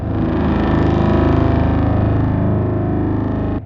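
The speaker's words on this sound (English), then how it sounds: "That BRAAM sound has that kind of pitch bend" A massive distorted BRAAM synth blast inspired by Dune, with a pitch-bending tone layered over extra wavetable and saw-wave low end, holds loud and dense for several seconds before cutting off abruptly.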